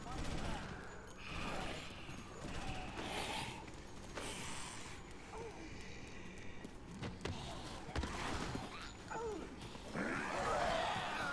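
Scattered gunfire from the Dead Rising video game, quick bursts and single shots at a moderate, fairly faint level mixed with game clatter, with a person talking over it.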